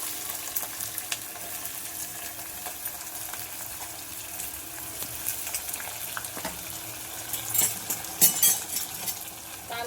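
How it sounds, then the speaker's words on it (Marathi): Onion with green chillies browning in oil in a pan for chicken pulao, a faint steady low sizzle with occasional utensil clinks and scrapes, quiet and close, with no talking. "कांदा चांगला ब्राऊन लाल होईपर्यंत भाजून घ्यायचा आहे."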